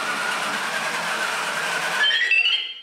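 The motor of a 1999 R.A.D. 2.0 toy robot whirs steadily as it spins, then the whine rises in pitch and winds down at the end.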